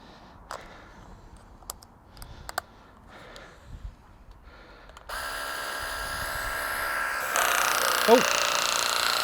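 Worx pressure washer running with a snow foam attachment, a steady broadband hiss of spraying foam that starts abruptly partway through and grows louder, after quieter handling clatter and brief knocks.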